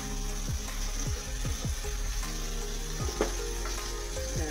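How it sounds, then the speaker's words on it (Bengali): Vegetables for chilli paneer lightly frying in a pan give a continuous soft sizzle with a low steady hum beneath and occasional faint scrapes, close and even in level, with no one speaking. "সবজিগুলো আমার ভাজা হয়ে গেছে, কেন এটা তো খুব একটা বেশি ভাজে না, হালকা করে ভাজতে হয়"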